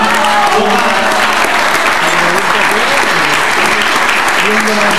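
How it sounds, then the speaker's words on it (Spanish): An audience applauds a musician at a bolero concert by an orchestra in Bogotá, loud continuous clapping filling the hall alongside music tones and speech. "El aplauso para"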